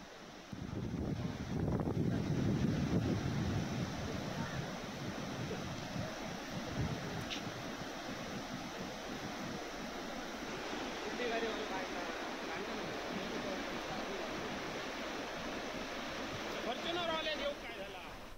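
Floodwater from a swollen Konkan river pours over the Amberi bridge in Sindhudurg, giving a steady broadband rush with wind buffeting, heard at moderate distance under faint voices.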